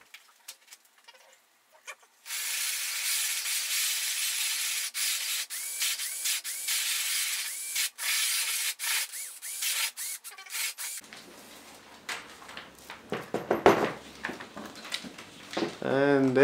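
32mm hole saw cutting through the plastic fairing of a Yamaha R1, a sustained close rasping grind with brief stops, giving way to scattered scraping and clatter as it finishes.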